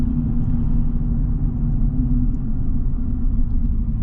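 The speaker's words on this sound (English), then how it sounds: "Man, I love the diesel so much." Steady low rumble of the diesel engine in a 2025 Chevy Silverado ZR2 Bison pickup, a constant drone heard from inside the cab with no revving or talk.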